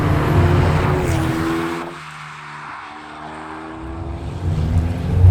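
A sports car engine roars loudly, backs off into a lower, quieter drone, then climbs again into a rising growl near the end.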